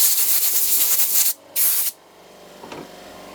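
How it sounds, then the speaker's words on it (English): Compressed air blasting through a Honda CB250RS motorcycle oil pipe: a loud, close, broadband hiss with a brief break before a second burst, then cutting off to a quiet room. "I actually have 3 of those oil pipes, so let's blow this one out"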